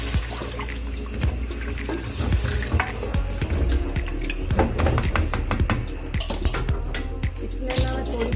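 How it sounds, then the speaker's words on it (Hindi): Water poured into a cooking pot of fried-down curry base in a home kitchen, a loud continuous splashing gush with clattering and sizzling throughout. "अब मैं इसमें पानी ऐड कर दूँगी।"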